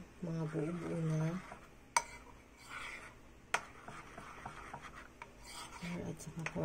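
Crispy okra batter of flour and cornstarch being mixed in a bowl, soft rasping and scraping strokes with a couple of sharp utensil clinks against the bowl, while a person talks over the first part.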